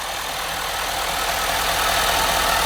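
A 2013 Ford F250 Super Duty's 6.7 liter Powerstroke turbo diesel V8 idles steadily, a dense rumbling clatter with a constant low drone and no voices over it.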